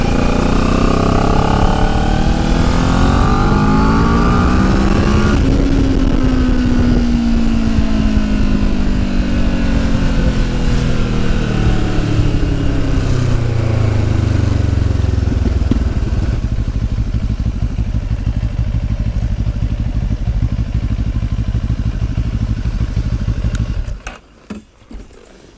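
A QJ Motor SRT 700 SX motorcycle engine revs hard while riding, climbing and dropping through the gears. It is loud and close with heavy wind rush, then settles into a steady drone and cuts off abruptly near the end.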